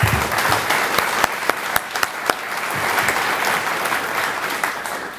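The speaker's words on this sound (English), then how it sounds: "Let's do a round of applause for that." An audience at a dedication ceremony gives a round of applause, dense, steady clapping with a few sharp nearby claps standing out, gradually thinning toward the end.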